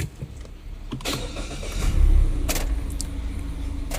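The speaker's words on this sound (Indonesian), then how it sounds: "mari kita starter mobilnya." A 2016 Mazda 2 Skyactiv 1500cc hatchback engine cranks with a couple of sharp clicks, catches, and settles into a steady low idling rumble close by.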